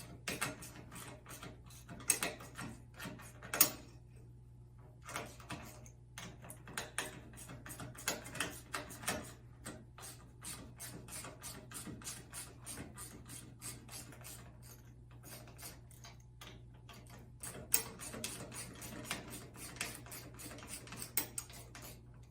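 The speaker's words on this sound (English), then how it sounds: "Then you can switch to ratchet wrench to speed things up." A ratchet wrench clicks steadily in quick, fairly soft runs, removing the dropout screws on a Helix bicycle frame, close by and alone with faint mechanical rubbing.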